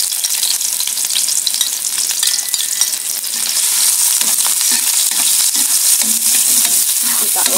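Ginger, garlic and onion stir-fried in hot oil make a loud, bright, hissing sizzle that runs steadily throughout, with occasional scraping of the stirring, close up and with no speech.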